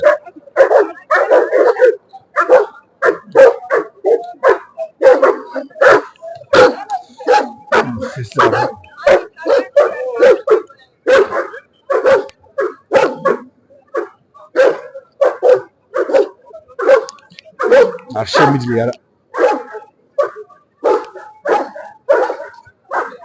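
A black dog barks loudly and close in rapid, repeated bursts mixed with yips and whimpers, continuing with only brief pauses; a person says a few words during it.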